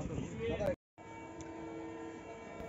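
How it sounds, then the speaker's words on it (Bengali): A train comes into a railway station with a rumble and a short horn-like tone, then a brief drop-out before a steady, faint hum of rail noise continues. Voices are faintly present. "এই যে ট্রেন চলে এসছে।"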